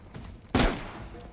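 A single sharp pistol shot in the video game Uncharted 4 cracks loudly midway through, with a short decaying tail over quiet background noise.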